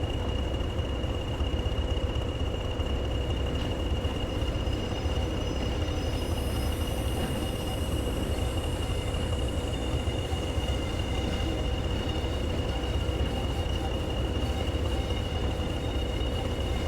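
Locomotive reversing along a railway track in Train Sim World 6, a continuous loud rumble of wheels and engine with a high wheel squeal rising midway, no voices.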